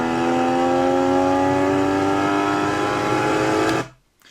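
Porsche PSE sports exhaust with the valves open, a loud, close engine note held at a steady deep drone, then cut off abruptly near the end.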